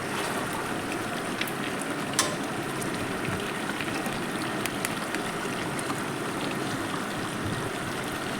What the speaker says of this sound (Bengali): মাংস থেকে যে জলটা বেরিয়েছে সেই জল দিয়েই মাংসটা কষিয়ে নেব।